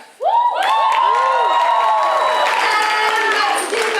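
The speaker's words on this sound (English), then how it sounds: "let's give a big cheer to Mary Eastland and Lauren Murray" An audience at a fine arts night erupts in cheering, with rising whoops and shouts from many voices blending into a loud, sustained roar.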